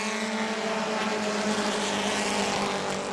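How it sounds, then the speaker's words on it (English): Race cars run down the front straightaway at New Smyrna during heat races, a loud, steady engine roar with a droning tone that holds throughout, without distinct throttle burps. "you might see these cars start to burp the throttle here down the front straightaway to avoid breaking out"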